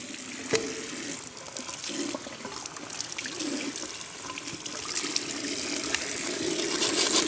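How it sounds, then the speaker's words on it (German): Hand sanding the edges of a carbon fibre leg prosthesis under running water with fine sandpaper; a continuous splashing, tap-like water flow with soft scraping, close and steadily rising, with no talk. "Mit der Hand schleift Peter Ferger unter Wasser die Kanten so rund wie möglich."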